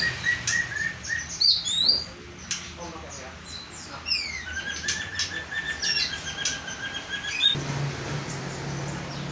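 Several small birds chirp and trill in quick, high bursts nearby, with bits of fluttering and a low background hum.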